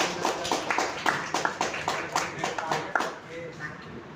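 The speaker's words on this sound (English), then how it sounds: "Let's give a big round of applause to" Audience applause for the speaker at an academy session, a dense run of claps that is steady at first, then thins out and fades near the end, with a voice talking under it.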